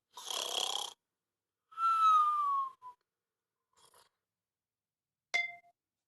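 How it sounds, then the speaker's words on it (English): Two drawn-out snores, the second with a whistling rise, then quiet and a faint clink near the end; isolated and fairly soft. "Father Christmas just began to snore."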